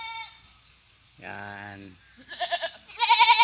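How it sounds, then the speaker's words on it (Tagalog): Goats kept on a rural farm in the province bleat close by in two or three wavering calls, the last ones louder, with a person briefly speaking. "may alaga silang kambing, oh"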